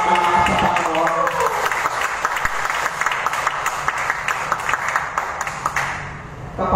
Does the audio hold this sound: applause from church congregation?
yes